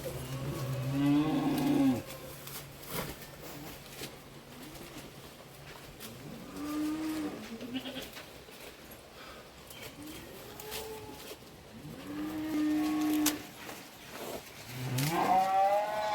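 Farm cows celebrated at Mattu Pongal give repeated long, loud moos, close by and spaced out over the stretch, with birds cooing and some background talk.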